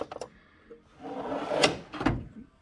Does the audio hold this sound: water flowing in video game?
no